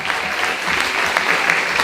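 Audience applause for tutor Roberto at a 2023 book fair, a dense, steady clapping from a crowd that fills the whole moment at close range.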